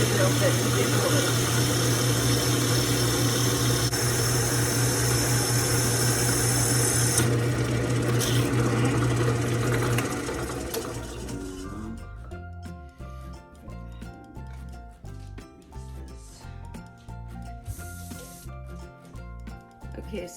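RYOBI 12-inch drill press boring holes into clay, a loud steady motor whine with grinding that cuts off partway, leaving quieter clatter and handling noises.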